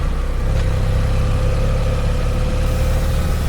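Steady engine drone of a BMW F800 GS motorcycle running at a constant idle-like pitch, loud and close, with no speech.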